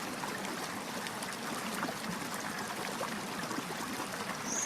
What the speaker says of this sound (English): I know you can hopefully hear the creek bubbling away in the background there